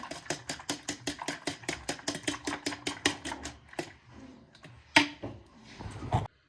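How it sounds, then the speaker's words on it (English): A fork whisks French toast egg mixture in a bowl, making rapid, evenly spaced clicking taps close up for several seconds, then slower, scattered strokes with a couple of sharper clanks near the end. "Whisk using a fork."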